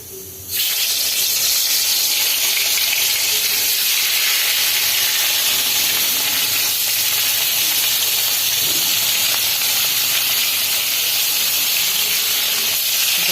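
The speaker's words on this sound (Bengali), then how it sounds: "কড়াই গরম হয়ে গেছে এখন মাছগুলো একটা একটা করে ভেজে নেব" Fish pieces fry one by one in a hot wok, a steady broad sizzle and hiss that holds loud and even throughout, close up, with no talking.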